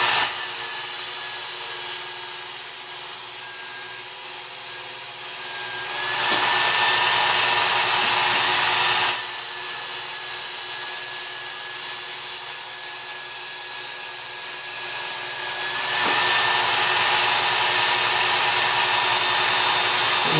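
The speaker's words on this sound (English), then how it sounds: "we're going to use this belt to quickly take the burr off and then establish a new burr at this grit level." A Work Sharp Ken Onion Edition variable-speed belt sharpener grinds a knife edge to remove and raise a burr, giving a steady close abrasive whir in two long passes with a short break between them and no talking.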